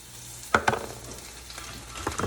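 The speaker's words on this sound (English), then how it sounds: "I'm going to add some of the onions in the pan and some scallions" Onions and scallions dropped into a hot frying pan, a couple of sharp sizzling bursts as they land, then a low crackle and a few more stirring pops.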